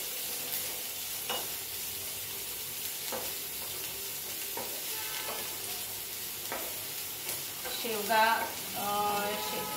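Chopped onion sizzles in a little oil in a pan for drumstick leaf bhaji, a soft steady frying hiss with occasional stirring scrapes and a louder clatter near the end.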